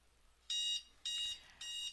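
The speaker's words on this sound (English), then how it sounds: "Oh boy, that would be my timer." A kitchen timer alarm goes off in three evenly spaced bursts of rapid high-pitched beeping, fairly close and clear over a quiet room.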